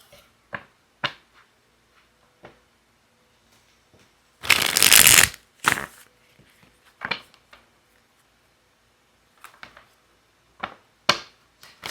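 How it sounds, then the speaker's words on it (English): Tarot cards being shuffled close up, a loud sustained riffle burst in the middle surrounded by scattered soft taps, flicks and card slaps in a quiet room, with no talking. "I want to pull a couple more cards here"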